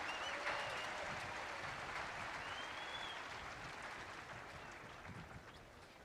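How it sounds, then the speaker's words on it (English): Crowd applause fills an outdoor West Point graduation ceremony, a steady wash of many hands clapping at a distance that slowly fades. "Ladies and gentlemen, how about a round of applause for the class of 1975"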